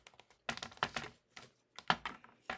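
Paper for a handmade card being trimmed, giving a few short crisp snips and cuts in quick clusters with brief quiet gaps, close and fairly faint.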